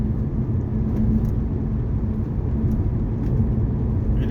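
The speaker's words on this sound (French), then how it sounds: "Et déjà je trouve que le moteur on l'entend. Et il fait un bruit qui est agréable." A stock Hyundai Coupe V6 engine, no turbo and stock exhaust, idles with a low, steady rumble, close and continuous, with no voices over it.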